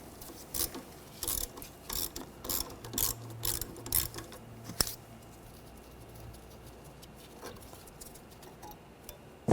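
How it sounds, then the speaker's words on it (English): A ratchet fitted with an 8mm socket backs out the brake hose bracket bolt on a 2013–2019 Ford Escape, a close series of quick clicking bursts for several seconds, then quieter rattling and a final tap. "Remove this bolt for the bracket for the brake hose."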